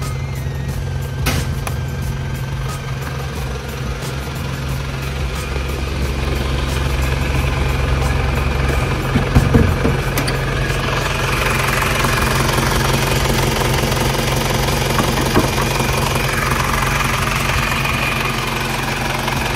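A 1996 Isuzu Panther Grand Royale engine idling up close, a steady rumbling drone with a faint knocking texture and a brief rattle partway through.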